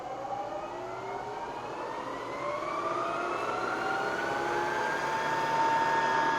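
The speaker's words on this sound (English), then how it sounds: "now, so the motor's spinning fast" A machine motor spinning at 500 RPM while countersinking a hole, giving a steady whine that slowly rises in pitch over a constant mechanical hum, close and continuous throughout.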